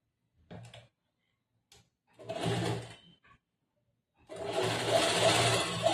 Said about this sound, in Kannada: ಟರ್ನ್ ಮಾಡ್ಕೊಂಡು ಇದ್ರ ಮೇಲೆ ಒಂದು ಹೊಲಿಗೆ ಹಾಕೋಬೇಕು